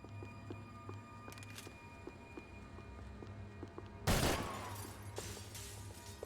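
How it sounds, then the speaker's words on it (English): Glass window shattering in the Max Payne 3 video game, a sudden loud bright crash that follows a stretch of quieter gunfire-like pops and tails off into scattered tinkling debris. "The window smashing's very good though."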